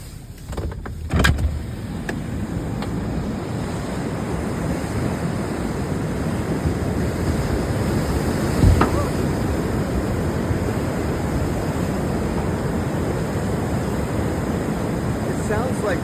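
Flash-flood water in Phelan, California rushes in a steady, roaring broadband wash like ocean surf, unbroken for the whole stretch, with brief faint knocks and wind buffeting near the start.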